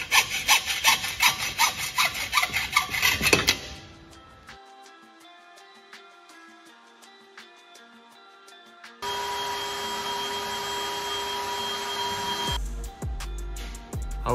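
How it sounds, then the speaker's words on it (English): Angled aluminium for a solar panel mount is cut by hand saw: fast, rhythmic rasping strokes up close, then a quiet pause, then a steadier continuous cutting drone. "I got into cutting up some angled aluminium"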